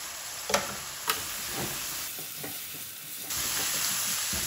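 Spiced keema filling for kachori, with chili and turmeric, being roasted over a high flame, giving a steady soft sizzle with a couple of sharp spoon knocks near the start.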